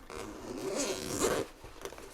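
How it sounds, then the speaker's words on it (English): A water-resistant zipper slides open along the main compartment of a DJI Mavic Air 2 shoulder bag, a close, continuous rasping pull lasting about a second and a half, then a couple of short tugs. "The main compartment has a good quality water resistance zipper."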